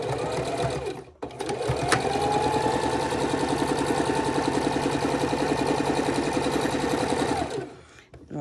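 Quilt pieces for a king size quilt run through a sewing machine in one long steady stretch of fast stitching after a brief stop-start, close and even, with a small click near the beginning.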